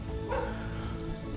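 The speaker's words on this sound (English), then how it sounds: "There's a lot of dogs in this neighborhood." Dogs bark in a residential neighborhood, a brief cluster of barks rising over a dense, noisy background with no talk.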